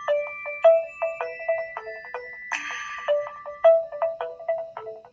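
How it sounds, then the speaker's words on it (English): A mobile phone ringtone plays a bright, repeating electronic melody of short tonal notes in a steady pattern, clear and close in an otherwise quiet room. "my phone is ringing"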